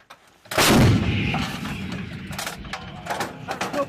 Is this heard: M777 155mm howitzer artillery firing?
yes